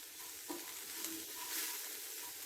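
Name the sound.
stirring coconut into ivy gourd and peanut stir-fry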